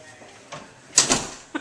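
A door pushed shut indoors in a hotel, one soft bump followed by a sharper closing thud and a faint latch click, close by and without talk.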